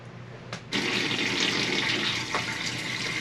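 Water gushes steadily into an RV black tank with a strong, rushing splash that starts abruptly and continues throughout.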